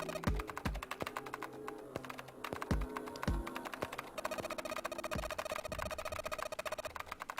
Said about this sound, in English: Uh-oh, she stopped typing.